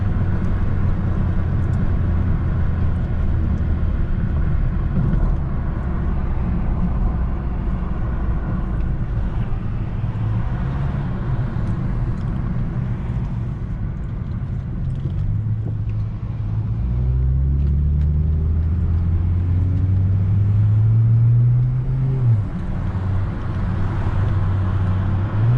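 A BMW 335i with Burger Motorsports air intakes and a JB4 tune accelerates hard from inside the car, its engine droning loud and steady with low tones rising through the gears.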